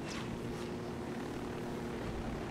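A helicopter in the Ghost Recon Wildlands video game going down, heard as a loud, steady rotor and engine roar that fills the whole stretch without a break.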